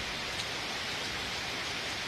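Heavy evening rain in Bangalore pours steadily outside near a doorway, a dense, even hiss that holds constant at moderate loudness with no voices.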